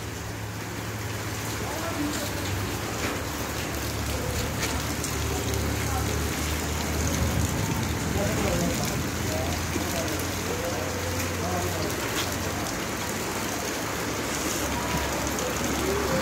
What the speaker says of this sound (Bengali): দেখুন প্রচণ্ড বৃষ্টি হচ্ছে